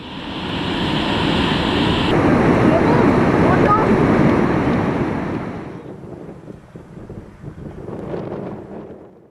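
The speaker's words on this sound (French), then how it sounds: "La cascade inférieure, haute de 21 mètres, projette une bruine permanente au-dessus d'un paysage lunaire." A 21-meter waterfall in the Reykjavik region of Iceland throws up constant spray over a barren lunar-like landscape. Its steady roaring rush is loud and broadband with wind buffeting the microphone, then thins to a quieter hiss for the last few seconds.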